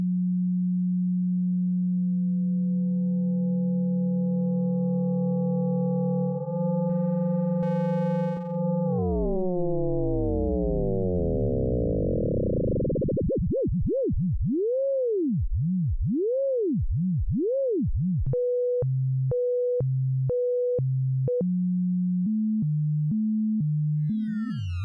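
Synthesizer oscillator producing a pure sine tone whose output is boosted through a gain stage; the steady pitch sweeps and bends, then breaks into wobbling swoops and short stepped beeps, clean and electronic with no voices.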